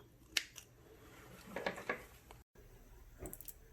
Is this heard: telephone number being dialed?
no